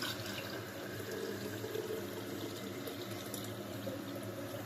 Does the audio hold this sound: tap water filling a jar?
yes